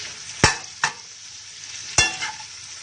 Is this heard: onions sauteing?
yes